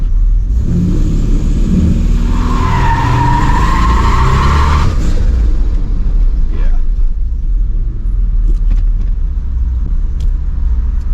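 A turbocharged Trans Am holds a steady, loud engine drone under power brake, then launches with a rising whine and tire noise that fades after about five seconds, leaving a constant heavy rumble underneath.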